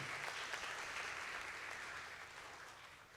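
An audience applauds after a staged performance of the drama Prabu Surocandolo, a dense, even wash of clapping that sounds soft and distant and fades slightly toward the end.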